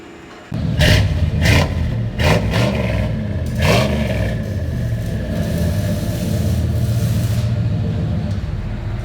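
A 1990 Chevy Silverado with a 5.7L V8, dual exhaust and Flowmaster 40 series mufflers starts up and revs in several quick blips, a deep close rumble settling into a steady idle.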